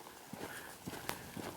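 A horse's hooves striking the ground in a quick rhythmic lope while going downhill on a trail ride, a few soft muffled beats spaced across a short moment.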